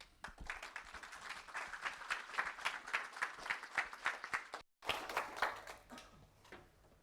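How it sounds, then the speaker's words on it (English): Applause greets the next speaker, Daniela, at a sthlm.js JavaScript meetup, a crowd clapping in a lively, rhythmic burst that breaks off abruptly, resumes briefly and then tapers away. "give her a round of applause."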